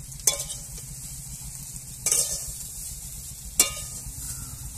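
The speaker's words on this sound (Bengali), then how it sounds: "আমি কড়াই থেকে তুলে নিচ্ছি" Fried potatoes and okra are lifted out of a wok, with three sharp metal scrapes of a spatula against the pan over a low, steady sizzle of oil, close by and without talk.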